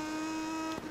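Triumph motorcycle engine in a Moto2 racing video game, holding a steady high-pitched drone with a slight wobble near the end of the short stretch.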